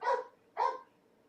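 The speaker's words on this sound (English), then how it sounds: "without my crazy dog barking in it" A dog gives two sharp barks about half a second apart, close by, with quiet between them.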